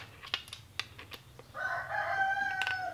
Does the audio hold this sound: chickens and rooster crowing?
yes